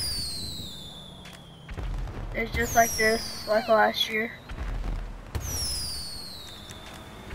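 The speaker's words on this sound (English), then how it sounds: "And then, firework launcher." Fireworks from a firework launcher in GTA 5 crackle and whistle, with bursts of popping and sparkling noise while a person talks over them.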